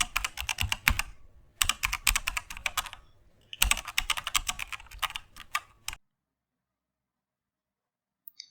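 Three bursts of quick, close keyboard typing come from a computer keyboard as a prompt is entered, separated by short pauses and then ending in near silence.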